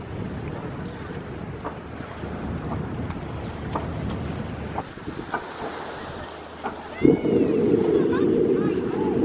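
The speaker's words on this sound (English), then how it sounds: "look at the boat, which is perfectly framed going out to sea" Steady wind and water wash along the Kent coast between Whitstable and Herne Bay, with a boat's low engine drone growing louder and closer near the end as it heads out to sea.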